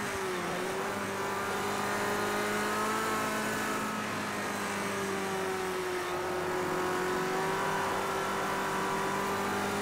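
A 1971 Ford Escort RS1600 in Project Cars 2, racing in Scotland, downshifting to third: a steady, loud mid-pitched engine drone that drops in pitch at the shift and then holds and climbs slightly, close and unbroken, with no talking.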